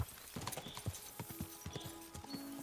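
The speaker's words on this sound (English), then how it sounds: "Is this your first time riding a horse?" Horse hooves clip-clopping in a riding scene from a video game, a quick uneven run of sharp hoof knocks, fairly close, with a soft whinny-like tone and faint background hum.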